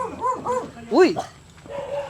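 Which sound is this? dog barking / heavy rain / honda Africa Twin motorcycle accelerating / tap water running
dog barking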